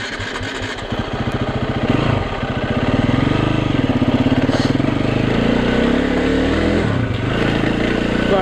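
KTM EXC-F single-cylinder dirt bike ridden along gravel forest roads in Okutama, Japan, its engine thumping steadily and rising in revs as it pulls away, loud and close throughout.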